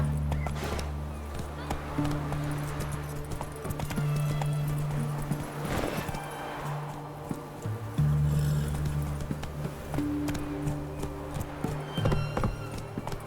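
Hooves of the horse Roach gallop in the video game The Witcher 3, with a steady rhythmic clip-clop over a low droning background and a brief whinny, while a voice talks over it.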